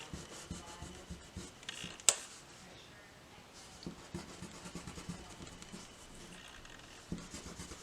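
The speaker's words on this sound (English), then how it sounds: "So now I want to take my eraser and kind of clean up those edges a little bit." A pencil eraser rubs back and forth across drawing paper, faint, close scrubbing strokes in short irregular bursts with one sharper tap partway through.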